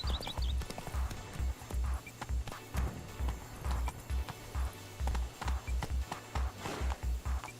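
A horse ridden in The Witcher 3 pounds along at a gallop, quick rhythmic hoofbeats thudding in steady repeated bursts, fairly quiet, with faint jingling of tack.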